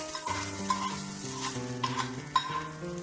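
A spiced tempering with garam masala sizzles in a pan for black-eyed pea (lobia) dal, with soft frying crackle and a few light stirring and utensil clinks, no voices.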